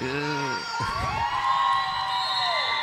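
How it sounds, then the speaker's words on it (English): Spectators at a school sports event shout and whoop in a short burst of heckling and screaming, voices rising and falling over a noisy crowd. "Bit of a heckle coming through from the crowds."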